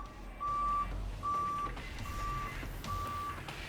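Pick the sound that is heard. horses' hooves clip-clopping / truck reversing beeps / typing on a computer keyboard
truck reversing beeps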